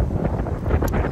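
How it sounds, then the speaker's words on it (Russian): Strong wind buffets the microphone of a cyclist riding outdoors, a loud, continuous low roar and rumble that fills the whole moment with no voices. "очень сильный ветер"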